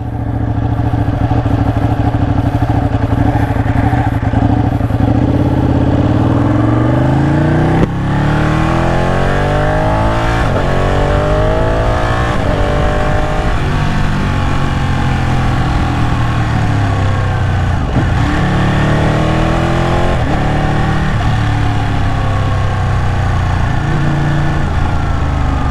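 A Ducati 899 Panigale motorcycle engine revs loudly and close by, rising and falling through repeated sweeping throttle blips with a brief cut near the eight-second mark, continuous and without talk.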